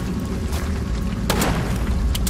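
A gunshot in the video game UnBroken, sharp booming blasts standing out over a steady game background, with no talking.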